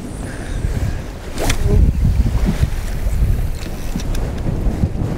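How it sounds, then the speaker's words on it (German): Strong wind blowing over a fishing boat at sea, a loud continuous rush and buffeting of gusts against the microphone, with water sloshing underneath and no speech. "Boah, ist das windig jetzt."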